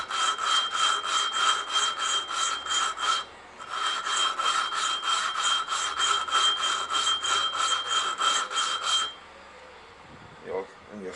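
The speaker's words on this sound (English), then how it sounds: "You can hear it grinding." A valve is hand-lapped into its seat with lapping paste in a shed, giving a steady, close, rhythmic back-and-forth grinding rasp that pauses briefly partway through and stops near the end, with a faint voice under it.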